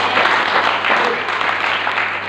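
Steady applause from a church gathering fills the room for about two seconds, a close, dense patter of many hands clapping with no break.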